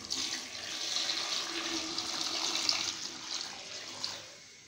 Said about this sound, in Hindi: पानी ऐड किया